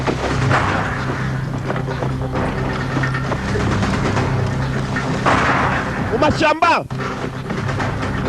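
Booming gunfire in the film Rocky rumbles through a dramatic soundtrack, with a loud burst of shots near the end over the blend of noise and voices.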